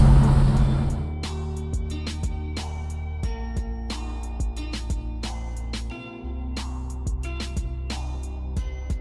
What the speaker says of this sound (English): I'll give it a little bit of acceleration so you can see that it drives great